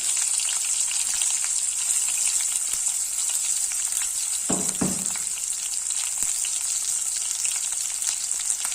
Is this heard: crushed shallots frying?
yes